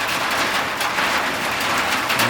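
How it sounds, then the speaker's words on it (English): Rain pours down steadily outdoors as a dense, even hiss of countless drops, loud and unbroken throughout with no voices. "Sorry about the rain sound. It's starting to come down here."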